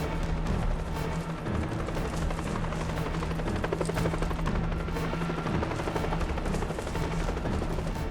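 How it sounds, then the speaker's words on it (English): A helicopter in the video game Jurassic Attack thumps with rapid rotor chopping, a dense, fairly loud whirring pulse that continues steadily throughout, with no talk over it. "Chopper is en route."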